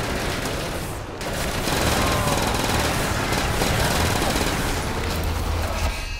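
A rapid, continuous burst of automatic gunfire from a large-magazine weapon in a zombies video game hammers loudly and evenly for several seconds, with a brief gap near the start.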